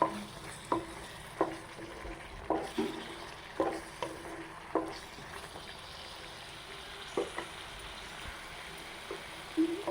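Mint rice cooking in oil in a pan: a utensil scrapes and taps against the pan in a steady stirring rhythm, roughly once a second, over a soft, continuous sizzle.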